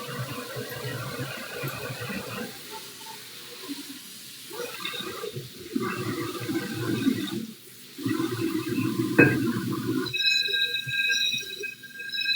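A kitchen tap runs into a sink while dishes are washed at home, the water hissing in uneven bursts that stop and restart, with clinks and handling sounds between streams.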